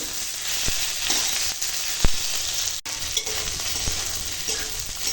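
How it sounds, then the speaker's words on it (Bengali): Ridge gourd and bitter gourd cooking in a pan, a continuous hissing sizzle with occasional scraping knocks of a stirring spoon, close and steady with no talk. "এখন তরুলি আর করলা সবজিটা রান্না হচ্ছে দেখো এরকম হয়েছে"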